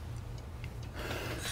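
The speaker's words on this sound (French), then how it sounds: "avec le tic-tac de sa pendule." A pendulum clock ticks in a quiet bedroom at night, a faint, steady series of light ticks against a low hum.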